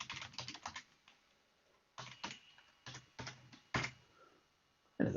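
Typing on a Dell XPS 13 9360 laptop keyboard to enter a Wi-Fi password: crisp, close key clicks in quick bursts separated by short pauses, alone and fairly quiet.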